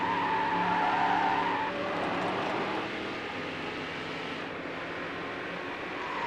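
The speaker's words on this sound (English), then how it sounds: "Distinct engine note on that car." A yellow HSV race car in Need For Speed Hot Pursuit 2 roars steadily while its tires skid and squeal, a continuous loud engine drone with a sustained screech early on.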